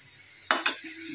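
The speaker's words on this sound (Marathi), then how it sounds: "फोडणी घालायला सुरुवात करा।" A tempering crackles in hot oil in a pan: two sharp sizzling bursts close together, then a low quiet background.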